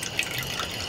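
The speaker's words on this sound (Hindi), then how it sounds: "बारिश तो हुआ नहीं है, फिर ये माने टपके की आवाज कहाँ ले आवा थे यार?" Water dripping in an indoor setting, a soft steady patter of small drops close by with no voices.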